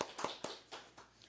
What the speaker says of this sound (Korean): 하나님께 감사의 박수 올려드립니다.